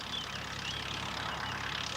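A Ferguson TE20 tractor engine drones steadily while hoeing sugar beet five rows at a time, a continuous mid-distance rumble with no pauses.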